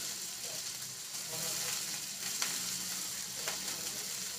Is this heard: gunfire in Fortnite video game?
no